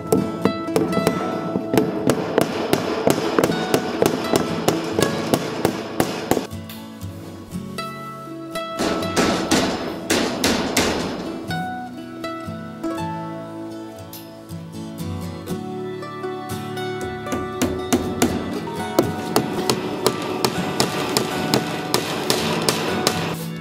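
Fence nails are hammered in to hold wire mesh while a screen porch is being built. The blows come in loud, close, steady runs of rapid strikes, with short pauses and looser clusters of taps between them. No one speaks.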